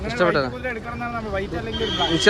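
A horse at Dubare Elephant Camp in Coorg lets out a whinnying neigh near the start, close by and fairly loud, with people talking over and around it throughout.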